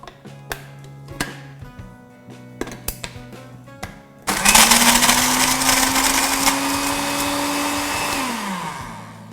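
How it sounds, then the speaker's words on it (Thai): After several sharp clicks and taps of ingredients and a lid being handled, a blender roars to life, loud and close, whirring green chilies, lime juice and palm sugar steadily for about five seconds with a shifting motor pitch. "ทำการปั่นส่วนผสมทุกอย่างให้เข้ากันนะคะ"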